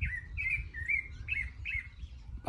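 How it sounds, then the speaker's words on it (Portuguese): A sabiá thrush sings freely beside a house: four or five bright, warbling phrases repeated in quick succession, fairly close and clear over a low background rumble, with no voices. "Vai ter um pássaro cantando pra você, ao lado de sua casa, ó."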